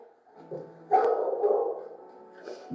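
A dog barks and yips in a short burst of several sounds, fairly close, with a brief pause before a final yelp.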